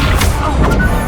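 A spell-cast in Hogwarts Legacy, the Accio pulling charm during combat: a loud, dense whooshing burst with crashing impacts that fills the whole second with no pauses.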